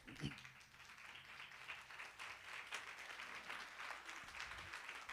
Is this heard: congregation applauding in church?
yes